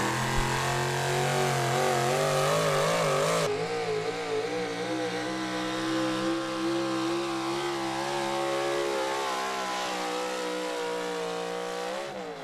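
Big block 4x4 truck engine at a truck pull screaming at sustained high revs throughout, loud and steady with slight wavering pitch as the pull goes on, no voices over it.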